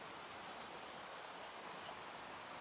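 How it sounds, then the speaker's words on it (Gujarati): The first monsoon rain of the season falls on a morning in Gujarat, a steady, even hiss of rainfall, faint and continuous, with no voices. "સવારમાં 7 વાગ્યા અને વરસાદ એવો મસ્ત ચાલુ થઈ ગયો છે ને"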